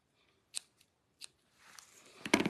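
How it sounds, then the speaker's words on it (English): Scissors snip ribbon on a handmade card in two crisp close cuts, followed by a longer rustle of the ribbon and card being handled. "So we'll do another little snip here."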